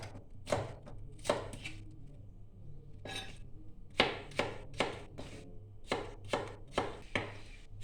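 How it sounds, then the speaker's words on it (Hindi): Knife slicing potatoes into thin round chips on a board, about a dozen crisp, close cuts in small uneven bursts with short pauses between, no speech. "हम इस तरीके से पहले गोल गोल आलू काट लेंगे"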